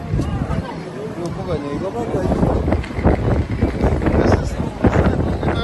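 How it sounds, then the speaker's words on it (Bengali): Strong wind buffets the microphone in a steady, loud rumble on a Kenyan journey from Malindi to Mombasa, with scattered voices faintly in the background. "অনেক বাতাস"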